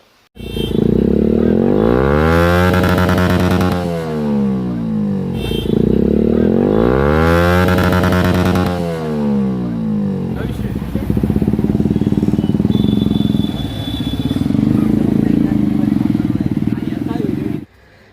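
A loud motorcycle fitted with a modified, harsh-sounding silencer revs hard twice, the engine pitch surging and falling, then idles roughly while people talk nearby.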